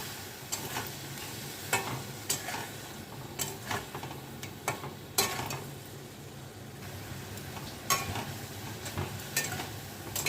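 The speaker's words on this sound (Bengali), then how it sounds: "এবার মশলাটা কষিয়ে নেবো" A spice paste for an onion- and garlic-free potato paneer curry is stirred and sautéed in a pan, a soft steady sizzle broken by irregular close scrapes and clinks of the spoon against the pan.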